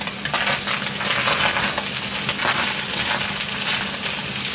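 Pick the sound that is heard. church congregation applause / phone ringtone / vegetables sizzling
vegetables sizzling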